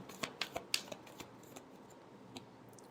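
Tarot cards are shuffled by hand in a quiet room, a quick run of crisp slaps and flicks that thins into a few sparse, faint taps.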